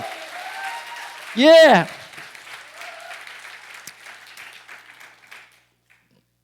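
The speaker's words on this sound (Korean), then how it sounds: "하나님께 영광의 박수." A church congregation claps and applauds throughout, a steady wash of many hands with a loud ringing cry over it, and a voice speaks briefly.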